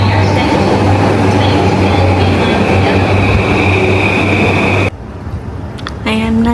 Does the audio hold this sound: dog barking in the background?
no